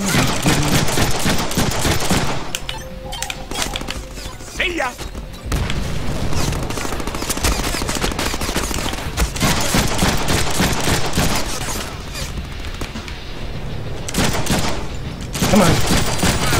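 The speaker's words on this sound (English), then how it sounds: "They're shooting at us." Enemy gunfire in the Deadpool video game rattles on almost continuously, dense volleys and booms filling the scene, with voices talking over it.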